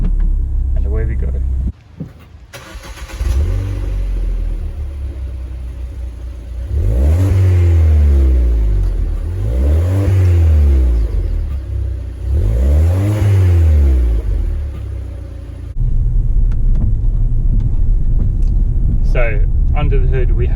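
A Mountune Ford Fiesta ST with a 1.6 litre petrol engine pulls away and accelerates, its engine note rising and dropping through three loud, close revving sweeps with gear changes, then settling into a steady rumble.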